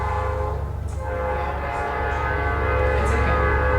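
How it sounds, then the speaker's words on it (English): A train rolls past close by, a loud continuous rumble with the steady sustained tone of a horn running through it and no one talking. "We can all wave at the trains, I guess."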